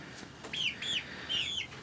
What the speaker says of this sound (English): They're almost full chickens.